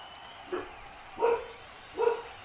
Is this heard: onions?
no